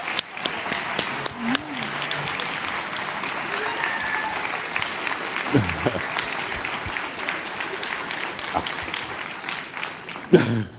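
Sustained audience applause in a large hall at a journalism award ceremony, steady and dense for about ten seconds, with cheers and an announcer's voice rising over the clapping at moments.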